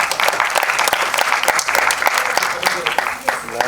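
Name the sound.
audience applause at album launch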